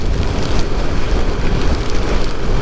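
Strong storm wind buffets the microphone during a rainy motorcycle ride, a loud, steady low roar with broadband rushing noise and no voices.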